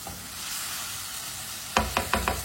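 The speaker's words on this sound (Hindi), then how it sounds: "गोश्त को मैंने 5 मिनट के लिए पका लिया है चम्मच चलाते हुए" Meat cooking in a pan on a stove and being stirred with a spoon, a steady close sizzle that swells into four sharp scraping stirs near the end.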